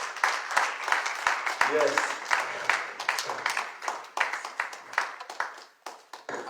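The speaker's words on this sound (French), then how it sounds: "Acclamez très fort pour Jésus" Church congregation clapping loudly for Jesus during a worship service, dense sustained applause with sharp individual claps, a brief spoken word and voices mixed in throughout.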